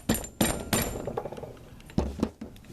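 A mallet taps a Geissele free-float handguard onto a rifle, giving a series of short, close knocks, a quick cluster of three, then two more after a pause.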